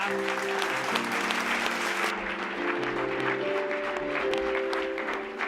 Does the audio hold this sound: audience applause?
yes